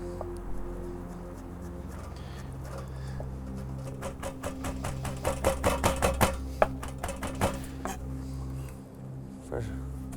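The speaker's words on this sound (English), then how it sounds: "We're gonna chop that nice and fine." A knife chops fresh oregano, parsley and basil on a board in a rapid run of crisp, evenly spaced taps that starts and stops, set over a steady low background hum.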